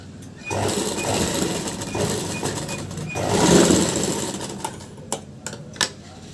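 A sewing machine stitching a blouse piece runs in a steady whirring burst that swells midway, then stops and gives way to a few sharp clicks and taps near the end.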